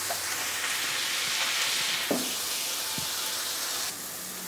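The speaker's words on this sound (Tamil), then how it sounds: "வெங்காயம் நல்லா பதத்தமாக வதங்கிடுச்சு" Onions softening in a pan for a drumstick leaves stir-fry give a steady, soft sizzle with a couple of brief utensil taps against the pan, fairly quiet and close, no voices.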